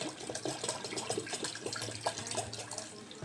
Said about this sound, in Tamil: நான் இப்போ சேர்க்குறது மண்பானையில் ஊற்றின தண்ணி.